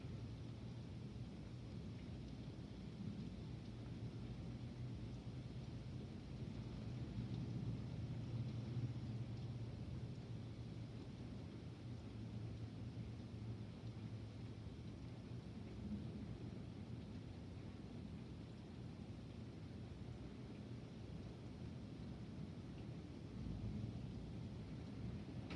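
A morning lightning storm with heavy rain hissing steadily throughout and thunder rolling as a continuous low rumble that swells slightly midway, distant and even, no voices.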